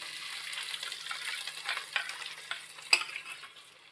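Onion frying in oil in a pan, stirred: a soft, steady sizzle with intermittent scraping stir strokes and one sharper clink near the end, close and fairly quiet, with no voices.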